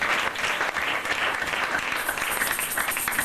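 A church congregation breaks into steady, dense applause with cheering that fills the hall, sustained without pause throughout.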